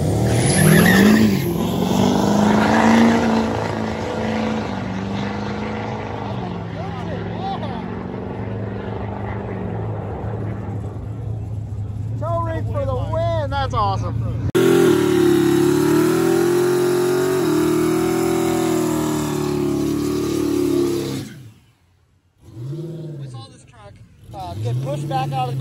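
A drag race car makes a pass down the strip at a drag event, its loud engine roaring and climbing in pitch over continuous crowd and ambient noise before the sound cuts off abruptly and a faint engine returns.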